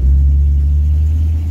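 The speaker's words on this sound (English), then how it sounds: "You just enjoy the wind, the sound of the engine." A 1960s Cadillac's engine rumbles steadily and loudly during a drive, with a deep low throb that holds even throughout without voices.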